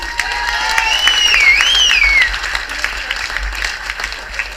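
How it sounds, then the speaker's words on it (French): Wedding guests applaud during the bride and groom's entrance, a loud continuous burst of clapping that tapers off, with a whistle or voice tone weaving over the start. "un tonnerre d'applaudissements pour tous"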